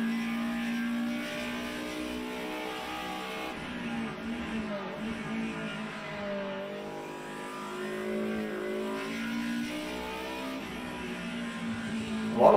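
A race car engine drones and revs in a DTM racing video game, a sustained, loud harmonic whine that rises and falls with shifting pitch as the car crosses the finish line.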